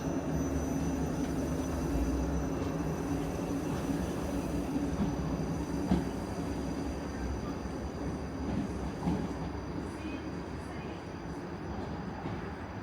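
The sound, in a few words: South Western Railway train running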